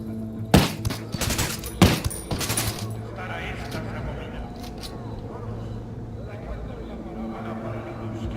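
Gunfire from the video game Ghost Recon Wildlands comes as several loud, close bursts of shots in the opening seconds, then fades to quiet ambient game noise.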